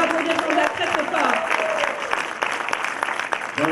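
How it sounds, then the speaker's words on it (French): An audience at an evening awards event claps, the applause fairly distant and uneven, with voices and brief tonal sounds mixed through it and some sharper individual claps standing out near the end. "On peut applaudir"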